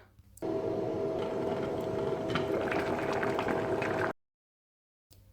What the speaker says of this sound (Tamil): மசாலா உப்பு சேர்ற அளவு கொதிக்க விடணும்